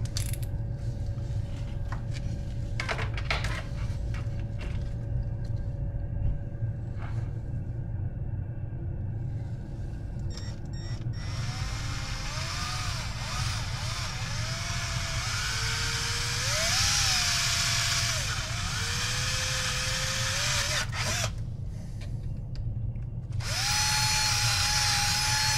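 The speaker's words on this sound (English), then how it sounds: "Drill the other side." A power drill with a 1/8-inch bit whirs in several long runs through an RC car chassis motor mount, its pitch rising and falling as it bores, after a stretch of quieter mechanical clatter and hum.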